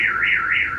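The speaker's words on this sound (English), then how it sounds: "Which car alarm that she got now, boy?" A car alarm wails in a rising and falling siren tone, loud and continuous over a brief moment, with no voices.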